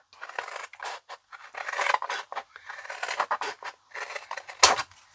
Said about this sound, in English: we're just going to cut along that line